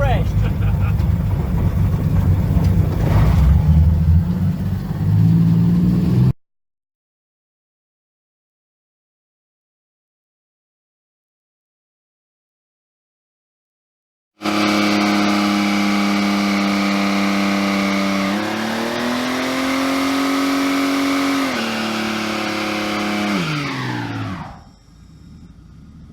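A dirt track circle race car engine revs hard during a road tune, loud and close, cutting out into a long silence before returning with a sustained roar that rises and falls in pitch and then drops away.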